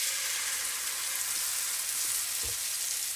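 Crepe batter sizzles steadily in a frying pan holding too much oil, a dense, even hiss for a first-time crepe, with a faint soft knock partway through.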